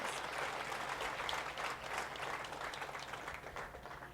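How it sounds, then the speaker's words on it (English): Fairly faint, steady applause from an audience at a 2015 driver appreciation event, honoring a driver named Diane; many hands clap as a continuous wash without pause. "Let's give Diane a great big applause."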